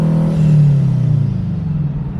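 A Subaru WRX/STI engine revs up close, a loud deep rumbling drone that swells and then settles into a pulsing, slightly falling tone over about two seconds.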